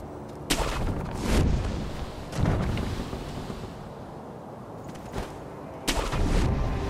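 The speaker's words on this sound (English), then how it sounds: "Be firing that gun at me." Gunfire aimed at the player in the video game Sekiro: Shadows Die Twice, with several loud booming shots spaced a second or so apart over a windy, rumbling background.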